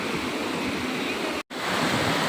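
Monsoon-season stream water flowing near a waterfall in the Chikmagalur hills, a steady, dense rushing hiss heard close, broken by a momentary cut of silence.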